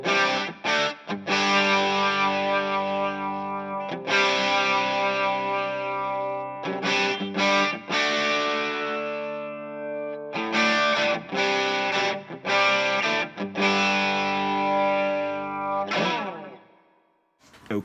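Electric guitar through a classic flanger with modulation feedback on a TC Electronic TonePrint pedal, playing sustained chords with a sweeping, jet-like whoosh, loud and alone across repeated strums with brief gaps.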